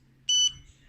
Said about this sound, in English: And it always makes that really loud beep.